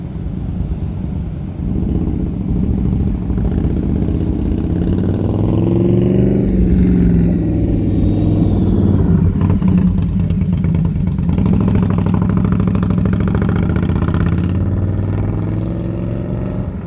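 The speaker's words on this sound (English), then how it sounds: "you gotta love that sound on that bike right there" A motorcycle engine rumbles loud and close for the whole stretch, a deep continuous throb that swells and shifts in pitch as it revs and moves, with no voices over it.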